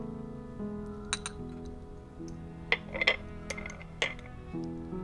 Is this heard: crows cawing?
no